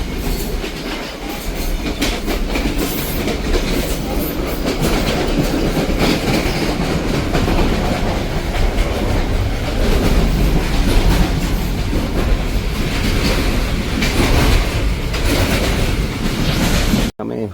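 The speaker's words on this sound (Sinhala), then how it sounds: "මේ තමයි මම ඉන්න දුම්රිය මැදිරිය." Inside a second-class reserved carriage of the Udaya Devi Express in Sri Lanka while running: loud, continuous roar of the moving train with rhythmic clickety-clack of wheels over rail joints, steady throughout and close.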